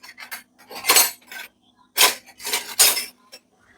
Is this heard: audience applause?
no